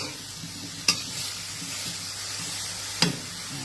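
Zucchini, garlic and pork sizzle steadily in a hot pan, a soft continuous frying hiss broken by two sharp clacks of a utensil stirring.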